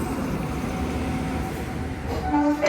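A passenger train arriving at a station platform, a low steady rumble of rolling wagons filling the scene, with a brief tonal horn or brake squeal rising near the end.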